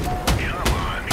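Gunfire in the vehicle combat game Crossout: loud, heavy shots booming at a steady rhythm, three blasts in quick succession over a dense background of engine and battle noise.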